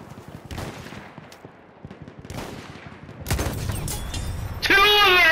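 Gunfire in the video game Battlefield 1 during a double sniper kill on riders of a motorbike, several sharp shots and bursts amid battle noise, ending in a loud sustained tonal blare, with voices talking over it.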